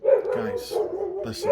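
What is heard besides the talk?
dogs barking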